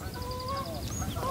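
Geese and ducks honk and quack near a fishing bank, a few overlapping calls close by with a soft outdoor background.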